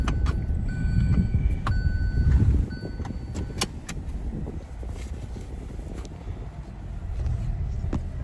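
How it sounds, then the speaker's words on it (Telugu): School buses pull away from a school ground at night, a low rumbling engine drone that swells and fades, with faint jangling and clicks nearby. "బస్సులు కూడా వెళ్ళిపోతున్నాయి"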